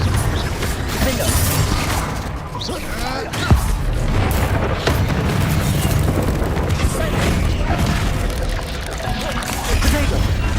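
Repeated fiery blasts from the Confringo spell in Hogwarts Legacy, loud booms and crashing impacts layered over continuous game noise, with a voice calling out spell names throughout.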